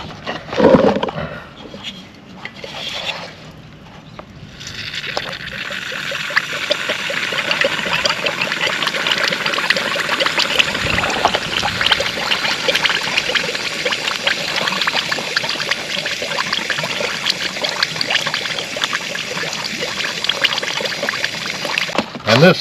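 Water squirting and spraying steadily out of a submerged Honda ATV engine, a continuous close hissing gush that starts after a few seconds of handling noise and runs without a break.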